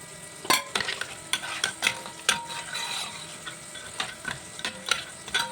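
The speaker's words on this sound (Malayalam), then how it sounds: "തേങ്ങ വറുത്ത് അരച്ച് കലക്കി ഒഴിച്ച് ഇതേ കുറച്ച് മസാലപ്പൊടി അങ്ങോട്ട് തൂവി ഇതങ്ങോട്ട് ഇളക്കാം" Crab curry with roasted coconut masala being stirred in a pot, repeated clinks and scrapes of a spoon in an uneven rhythm over a soft, close bubbling sizzle.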